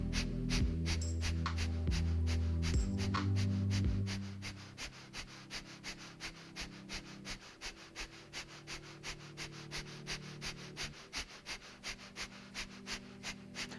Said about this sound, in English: we're going to try Kapalabhati breath again